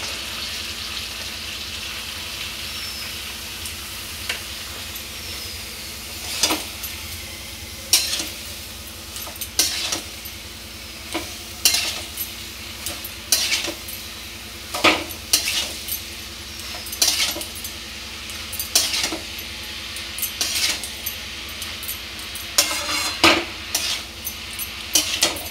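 Pieces of ash gourd frying in spiced oil in a pan, with a steady soft sizzle and repeated sharp scraping knocks of a spatula stirring at irregular intervals, growing more frequent toward the end; no talking.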